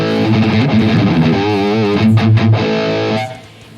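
Schecter Banshee 6 electric guitar through a Bugera G5 Infinium amp and Marshall 1960 Vintage cabinet, morph control on the UK side, gives loud overdriven chords and a wavering bent phrase, played alone and stopping abruptly near the end.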